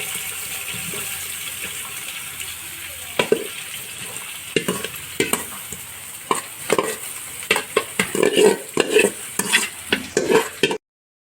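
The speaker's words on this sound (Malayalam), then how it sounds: "അത് നമ്മൾ കട്ട് ചെയ്ത് വെച്ച ഉള്ളി ഇടുകയാണ്." Chopped onions sizzle in a hot pan while a spoon scrapes and stirs them, the frying hiss steady underneath and sharp stirring knocks growing busier toward the end, with no talking.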